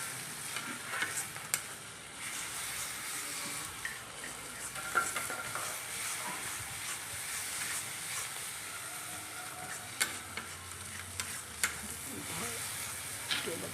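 Turmeric, chilli powder and cumin powder frying in a pan over a stove, a continuous hiss and sizzle with repeated scraping and clinking of a stirring utensil against the pan.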